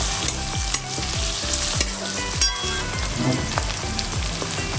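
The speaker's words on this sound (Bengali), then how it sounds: "অ্যাড করছি কাঁচা লঙ্কা, কুচিয়ে রাখা পেঁয়াজ একটু অ্যাড করলাম সামান্য, এটাকে একটু ভেজে নেব।" Green chilli and chopped onion fry in a pan, a loud close sizzle broken by regular scraping strokes of a spatula stirring the mix, with no talking.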